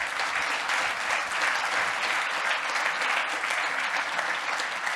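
Sustained applause from a sizable crowd, dense and even clapping throughout without talk.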